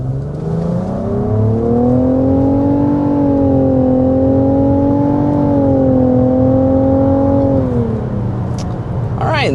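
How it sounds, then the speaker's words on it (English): A 2024 Nissan Rogue accelerating hard up to 60 mph, its engine note a steady loud drone rising and holding for most of the clip before easing off near the end, with road and cabin noise underneath. "And there's an acceleration of up to 60 miles per hour"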